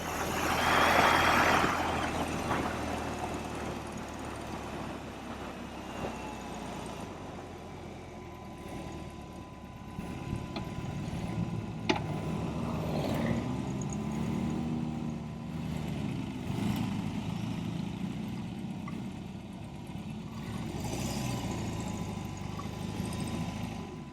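A BMW R18 cruiser motorcycle engine running in roll mode while riding, a steady low rumble that holds throughout at a moderate level with small swells and no talk over it.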